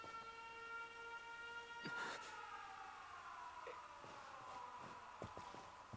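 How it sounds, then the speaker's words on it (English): An air raid siren in the video game 13 Sentinels wails with sustained rising and falling tones, accompanied by occasional sharp thuds and footsteps, fairly quiet overall with no voices. "Oh, it's the air raid siren."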